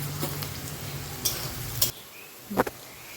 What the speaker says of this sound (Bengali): দেখো, এবার আমি পেঁয়াজগুলোকে সুন্দর করে লাল লাল করে ভেজে নেব।